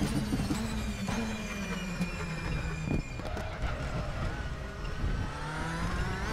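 DTM 2015 race cars in Raceroom Racing Experience at the Red Bull Ring whine at high revs as one overtakes with DRS, with steady loud engine drone and shifting pitch.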